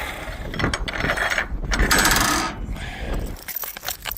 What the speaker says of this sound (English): Put our latch back.